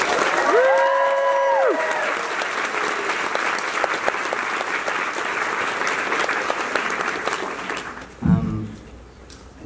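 A convention panel audience at SPX 2018 applauds and cheers in a sustained wash of clapping for Rebecca Sugar, loud and steady for about eight seconds before fading, with a brief spoken voice near the end.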